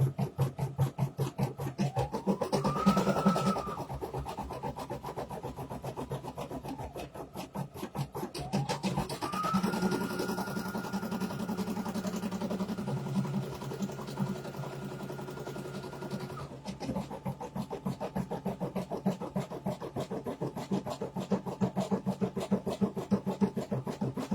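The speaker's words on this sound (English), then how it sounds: "this name is a 28-minute long stitch out" An embroidery machine stitches a long name directly onto a garment, a rapid steady needle chatter running throughout with rising and falling motor whirs layered over it.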